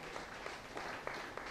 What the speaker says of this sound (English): Please, another round of applause for Akin